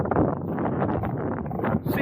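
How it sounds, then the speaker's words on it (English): Strong wind on a beach beside a rough sea buffets the microphone in a continuous loud, rumbling roar with gusty surges. "We're going after abalone, and it's very windy."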